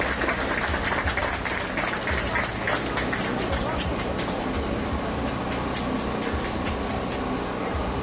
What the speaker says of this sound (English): So give this young lady a round of applause.